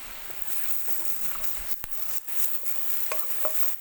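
Tempeh and long beans with bay leaves being stir-fried in a pan: a steady hiss of sizzling with scattered scraping taps of a utensil stirring, close and continuous.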